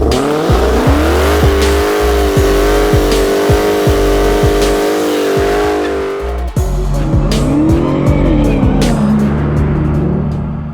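A Dodge Challenger SRT Hellcat Widebody with a 6.2-liter supercharged Hemi V8 pulls away loud and close, its engine note climbing through rhythmic gear changes. Tires chirp and squeal along the way, with no one talking.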